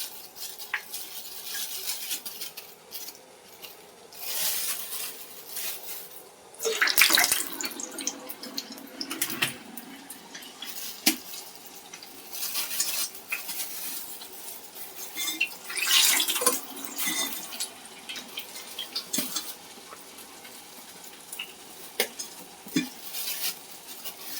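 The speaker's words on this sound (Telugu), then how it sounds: "నూనె కూడా బాగా మరిగిపోయింది. ఇప్పుడు వడేసుకున్నాం." Vada batter is dropped into well-heated oil and fries with a steady hiss. Bubbling and occasional louder splashes or stirring noises run throughout at moderate volume, with no voices.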